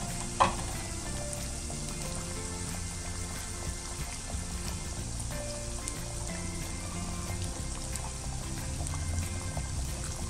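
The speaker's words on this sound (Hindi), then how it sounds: "इसको मीडियम फ्लेम पे फ्राई करें" Potatoes, cut for spicy roasted fries, fry in a pan over a medium flame with a steady, dense sizzle throughout, one sharp clatter near the start and faint background music.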